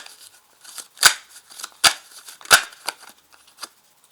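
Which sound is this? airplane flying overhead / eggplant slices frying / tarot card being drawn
tarot card being drawn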